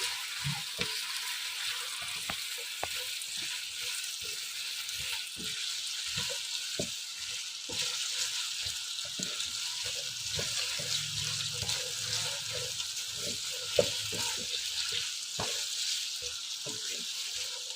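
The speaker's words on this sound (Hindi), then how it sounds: "अब इसमें मैं अरवी शामिल कर देती हूँ। इसे थोड़ा सा हम फ्राई कर लेते हैं।" Pieces of taro root (arvi) fry in half a cup of hot oil with a steady, hissing sizzle throughout, broken by frequent small ticks and scrapes of a spoon, close but fairly quiet.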